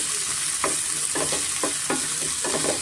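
Roughly cut brinjal pieces frying in oil on a medium flame, a loud steady sizzle with several evenly spaced stirring scrapes.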